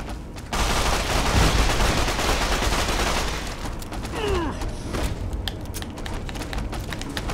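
Loud rapid gunfire in the video game Fallout: New Vegas, a dense stream of shots at first that thins into scattered bursts and clicks.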